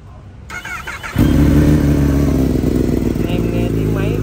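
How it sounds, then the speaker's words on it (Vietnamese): A Kawasaki ZX10R superbike with an SBK-tuned engine starts up and settles into a loud, steady, deep running rumble close by, after a brief quieter lead-in. "Em nghe tiếng máy cực kỳ êm, cực kỳ mạnh."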